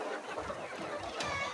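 Debeaked poultry in a feeding house clucking softly, a few low scattered calls over a steady background hum, faint and close together.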